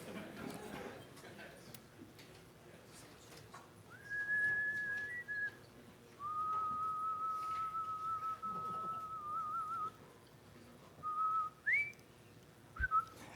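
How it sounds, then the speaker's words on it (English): Whistling in a room at the SciPy 2015 conference, a few sustained clear whistled tones, some gliding in pitch, separated by short pauses over a quiet room. "Everybody in the room whistle at the same time."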